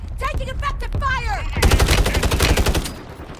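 Rapid automatic gunfire from a Call of Duty Warzone match on Rebirth Island, a loud dense burst of fast repeated shots following a short stretch of talk.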